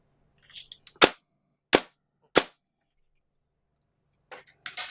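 Three sharp airsoft rifle shots firing 0.25 gram BBs, spaced evenly about two-thirds of a second apart, loud and close in a quiet room, with faint clicks of handling before and after.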